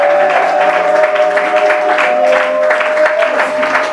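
A church congregation claps to acclaim the Holy Spirit. The clapping is loud and continuous, with a rhythmic pulse, layered over a sustained musical tone.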